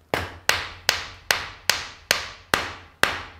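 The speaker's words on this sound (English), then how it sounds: "When it gets to the point where I really have to hammer on it, I'm gonna lift it up a little bit so I'm not stressing the tenon." Hammer blows drive a tenon joint into a skin-on-frame kayak frame, eight sharp, evenly spaced wooden strikes about half a second apart, close and loud with no talking.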